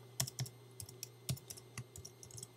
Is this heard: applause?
no